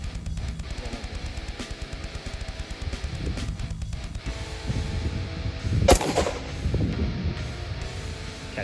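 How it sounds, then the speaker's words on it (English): Gunfire at an outdoor shooting range on a family range day, with a dense run of rapid sharp shots and a louder blast near the end, fairly close and loud with no talk. "Go ahead and try shoot one more."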